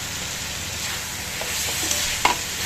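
Potato pieces dropped into a pan of frying garlic, ginger and broken red chillies, a steady hiss of oil with a few soft stirring clinks and scrapes, close and moderately loud.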